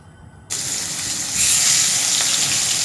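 Two pieces of turmeric-coated pangas fish drop into hot oil in a wok and burst into a loud, close, steady sizzle that swells and keeps hissing after a quiet start.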